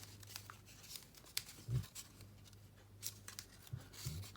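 Backing being peeled off craft paper for paper clip rosettes, a few soft tearing, crinkly bursts with small taps between them, quiet and close, with no talking.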